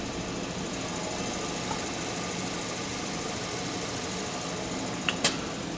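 A crankshaft balancing machine spins an MGB crankshaft, giving a steady, even mechanical whir and hum with a faint vibration throughout, and two brief light clicks near the end.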